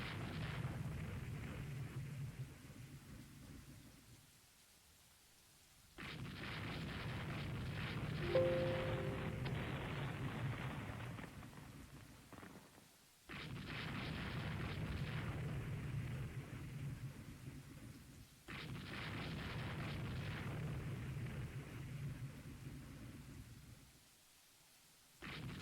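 Torpedo hits explode during a naval battle in the warship strategy game Rule the Waves 3, a 1950 war between Japan and France: three long, rumbling thunder-like blasts rise and fade in turn, with quiet gaps between them.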